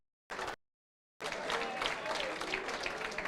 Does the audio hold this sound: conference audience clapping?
yes